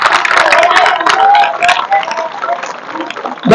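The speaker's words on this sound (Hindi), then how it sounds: "इसके लिए जोरदार तालियां बजा दो।" An audience at a youth group gathering claps loudly, with dense, fast claps swelling and easing over a few seconds and voices mixed into the crowd noise.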